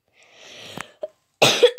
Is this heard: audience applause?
no